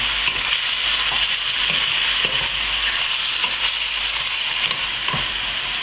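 Pork pieces browning for curry in a frying pan sizzle loudly and steadily up close, while scraping, stirring strokes and occasional pops cut through the hiss, with no talking.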